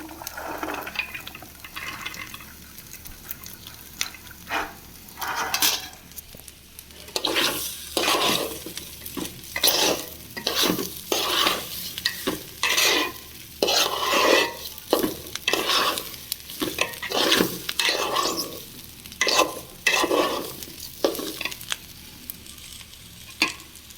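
Fried peas stirred in a sizzling pan, with a steady hiss underneath and repeated scraping, clattering stirring strokes near and fairly loud, coming in irregular bursts.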